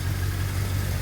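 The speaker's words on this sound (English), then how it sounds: "Think she turned out pretty good. Sitting there idling like a dream." A 1985 K30 truck engine idles steadily up close, a deep low rumble with an even, continuous throb and no talking over it.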